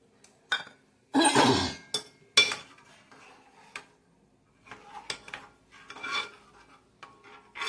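A mustard greens vegetable dish, thickened with maize flour, is stirred in a pan on low heat, with intermittent scraping, rasping strokes and metallic clinks of the spoon against the pan, some louder, others soft.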